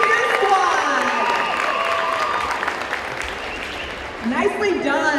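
A crowd at a high school pep rally applauds and cheers loudly for the cheer squad, sustained clapping and shouts filling the gym, with a voice over a loudspeaker talking through it.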